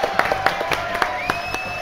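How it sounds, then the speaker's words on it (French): A studio audience claps for a guest's arrival on a French TV show, scattered hand claps at moderate volume with a few distinct louder slaps and a tonal hum beneath. "On l'applaudit avant qu'il arrive."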